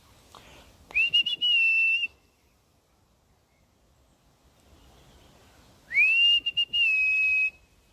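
A person gives two long whistles to call a dog, each a rising note that levels off into a sustained tone with short breaks, separated by a few seconds of near-silence.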